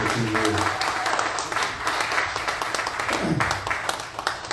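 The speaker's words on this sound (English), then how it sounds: "let's give her a round of applause for all the hard" A radio anniversary gathering gives a round of applause, steady clapping throughout with voices audible over it and some talk mixed in.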